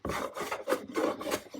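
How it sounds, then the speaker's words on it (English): A wooden guitar body being shaved with a hand smoothing plane, several rasping strokes close by, each a rough scraping pass with short pauses between. "with my trusty smoothing plate, I can just"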